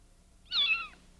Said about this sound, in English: Cats scare me.